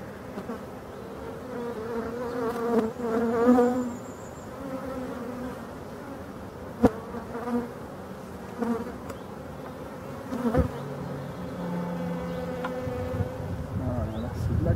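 Honey bees hum and drone around an open beehive with honey supers near a rapeseed field, a dense close buzzing that rises and falls, with occasional knocks and handling noises.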